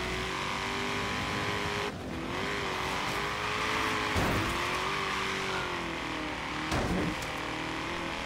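A classic hot rod races in Forza Horizon 3's Hot Wheels expansion, its engine droning loudly and continuously, rising and falling in pitch with gear changes and brief tire noise, with no talk.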